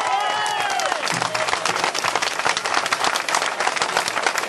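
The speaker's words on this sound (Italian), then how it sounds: "un grande applauso a Pantaleo Mangè" A crowd at a 2018 municipal election closing rally in Vernole applauds Pantaleo Mangè, with loud, dense clapping running throughout and brief cheering early on.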